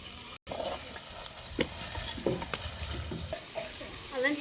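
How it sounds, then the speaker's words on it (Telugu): Ginger-garlic paste frying with onions in a pan, a crackling sizzle broken by repeated scraping stirs and brief utensil knocks, close up, with no speech. "అల్లం చిల్లిపాయ వేగిపోయిందండి"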